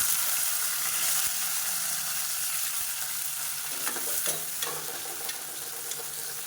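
Small halved shallots frying in a pan for Madurai-style mutton sukka, with steady sizzling and scraping stir strokes throughout, fairly close, no talk.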